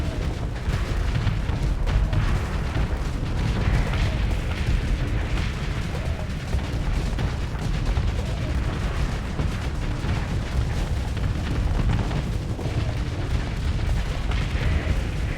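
Missile explosions during a space battle in Starsector, with Astral carriers dropping missiles near a station: a dense, continuous rumble of overlapping booms and bursts at steady loudness, with no distinct pauses.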